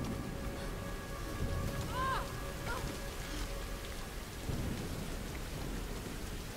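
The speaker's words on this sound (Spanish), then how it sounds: "el sonido de la lluvia me encanta" Rain falls steadily in the video game Tomb Raider (2013), a soft, constant hiss with low rumbling thunder beneath and a few brief bird-like chirps near the start.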